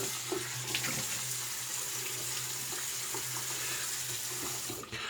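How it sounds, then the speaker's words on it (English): A water tap runs steadily as a razor is rinsed under it, a continuous close splashing flow with no talking. "give it a rinse, hang it up for a second"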